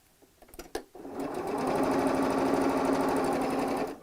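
A few light clicks and taps, then an electric sewing machine runs at steady speed for about three seconds, stitching patchwork fabric strips for a bag; the loud, even mechanical whirr is close and unbroken before stopping.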